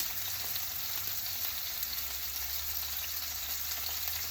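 A steak sizzles in a stainless steel pan over medium heat, a dense continuous frying hiss with faint crackles, steady and close with no talking.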